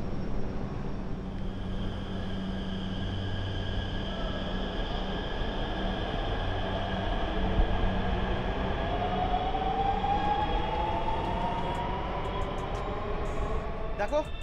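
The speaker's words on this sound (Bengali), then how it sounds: "দেখো অলরেডি কিন্তু একটা ট্রেন ঢুকে দাঁড়িয়ে আছে" Namo Bharat rapid rail train standing at the station platform, a steady low rumble and hum with a rising whine, under continuous talk.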